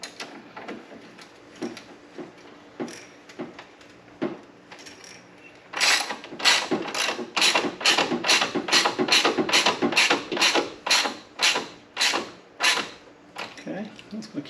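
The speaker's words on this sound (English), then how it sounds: "Once I feel it bite, I'm gonna go ahead and tighten it down." A socket wrench tightens the battery hold-down bolt on a Ford Ranger, heard as a long run of quick, evenly spaced ratchet clicks that start after a few scattered metallic clacks, up close and fairly loud.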